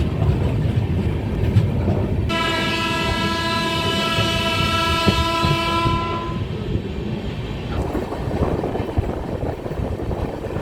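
A train rumbles steadily at Chaibasa railway station in India while a loud, sustained horn blares for several seconds over the rolling noise.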